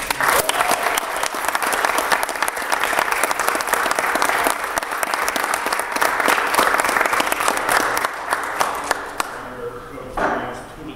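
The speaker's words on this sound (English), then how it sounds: "We are going to present the trophy to the Skyline Conference undefeated Mountain Division champions. Round of applause for all of them." An audience at a school board meeting gives a sustained round of applause for undefeated conference field hockey champions, steady dense clapping throughout that thins near the end.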